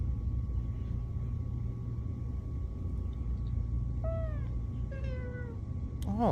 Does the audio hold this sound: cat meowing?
yes